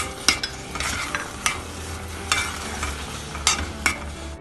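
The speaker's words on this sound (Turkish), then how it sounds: "rendelemiş olduğum sarımsağımı içerisine ekliyorum." Grated garlic stirred into a pan of paste, with repeated spoon scrapes and taps at an uneven rhythm over a soft background sizzle.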